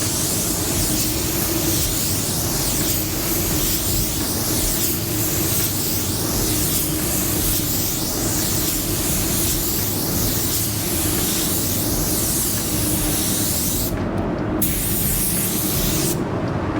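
A spray gun lays down pearl white paint in a steady, loud, continuous hiss that runs unbroken, with two short pauses near the end.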